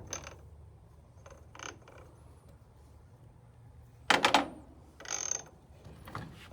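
A truck's power take-off gears clatter as they disengage, with a loud grinding mechanical burst followed moments later by a second rattling burst over a low steady drone.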